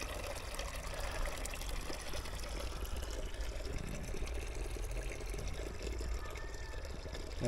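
Water running steadily from an old spring-fed stone fountain at an early Christian basilica complex, a continuous broadband splash and trickle with no pauses across the clip.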